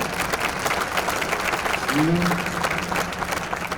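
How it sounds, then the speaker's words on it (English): A room of people at a health tech competition gives a sustained round of applause for the Boomerset team, the clapping dense and even throughout while a voice talks briefly over it. "we're going to do another big round of applause for Boomerset"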